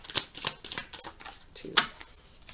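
Tarot cards are shuffled and flipped in short crisp bursts, a handful of sharp papery flicks and taps close by with a quiet pause between them.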